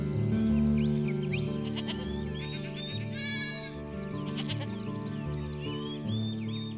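Goat bleating in a pasture near domestic livestock, several wavering cries over a steady background hum, moderately close.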